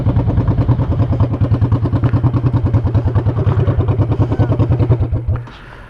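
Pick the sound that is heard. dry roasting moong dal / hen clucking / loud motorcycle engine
loud motorcycle engine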